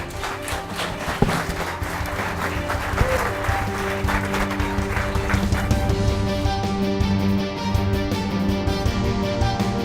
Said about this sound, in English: Let's have a round of applause for Evoworld.